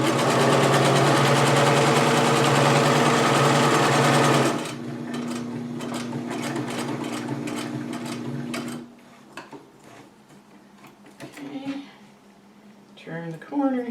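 A sewing machine back stitches a fabric mask, humming loud and steady up close before slowing to a lighter intermittent stitch, then stopping as handling sounds follow.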